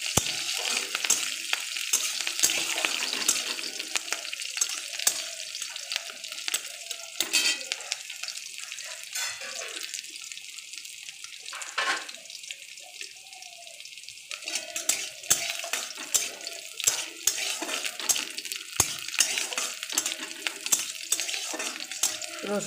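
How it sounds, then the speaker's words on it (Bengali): Garlic and green chillies fry in hot oil in a pan, a close, continuous crackling sizzle with frequent spatula scrapes and clinks, dipping briefly midway before the spitting returns strongly. "তেল গরম হয়ে গেছে বন্ধুরা, এখন রসুন আর লঙ্কা দিয়ে দেবো, কাঁচা লঙ্কা।"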